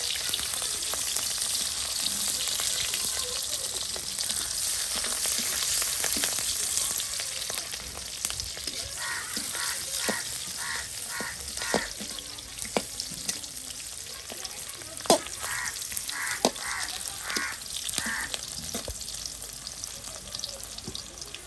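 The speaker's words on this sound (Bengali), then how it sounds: "এখন কাঁকড়া ভাজা করা হবে" Crab with green chilies frying in oil in a wok, a steady close sizzle with scattered clicks and stirring knocks from the pan running throughout.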